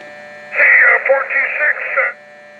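Whining electrical noise from a high-speed DC fan coming through a President Madison CB radio, a steady buzzy interference lasting about a second and a half over a faint background hum, then cutting off.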